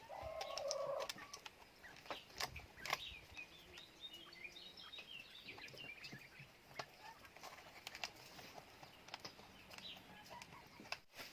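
Chickens and wild birds around an organic vegetable garden at a rural homestead, with scattered clucks, coos and chirps rising faintly over quiet background and a few sharp knocks between calls.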